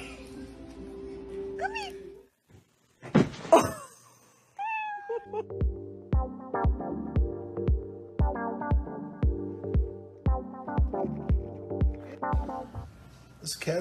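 A cat squeaks and meows in short high calls near the start, then repeated rhythmic thumping taps with tonal hum run underneath through the rest.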